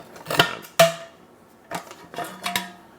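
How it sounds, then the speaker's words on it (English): A two-piece metal springform baking pan being handled and snapped together, giving several sharp metallic clicks and clanks spaced over a few seconds, close and alone. "It's 2 pieces with a little locking mechanism. It just locks together just like this."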